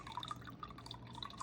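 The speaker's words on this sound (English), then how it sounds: "So let's just pour until we get that up to that 1/4." Reduced-sodium soy sauce trickles from a bottle into a pot of broth with a faint, steady dripping patter, close by in a quiet kitchen.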